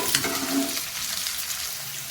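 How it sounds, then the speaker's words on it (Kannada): Green chillies and sliced onions fry in hot oil for a tomato curry, giving a steady close sizzle with a brief stirring scrape near the start and no talking. "ಅದನ್ನೆಲ್ಲ ಈಗ ಇಲ್ಲಿ ಫ್ರೈ ಮಾಡ್ಕೋತೀನಿ ನೋಡಿ ಎಣ್ಣೆಯಲ್ಲಿ ಚೆನ್ನಾಗಿ ನಾವು ಫ್ರೈ ಮಾಡಬೇಕು"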